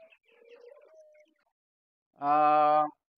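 A pigeon sitting on eggs gives a short, clear coo nearby, after a few faint earlier bird sounds, with silence between.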